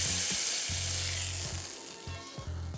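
Steak sizzles loudly in a frying pan, a bright continuous crackle and hiss up close, with low bumps of the pan being handled.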